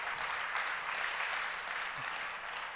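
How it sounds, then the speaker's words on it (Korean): Church congregation applauds a visiting missionary, with steady, full clapping from many hands filling the room at an even level throughout. "우리 선교사님 한 번 더 박수로 축복합니다."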